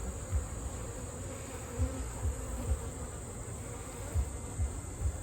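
Angry honey bees buzz steadily around an open Layens hive during a honey harvest, a close continuous drone with a few low thumps from handling the hive, no talking.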